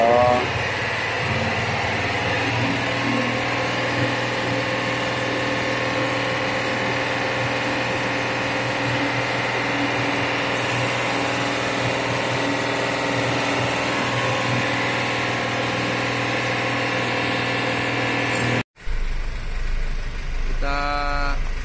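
A Hino FL 260 Ti truck engine runs steadily in fourth gear, a continuous loud droning rumble with a faint rattle, cutting off briefly near the end before resuming.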